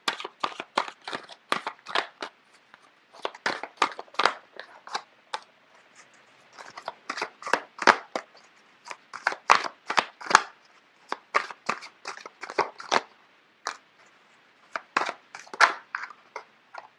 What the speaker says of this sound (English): I don't know why the cards are just flipping left and right.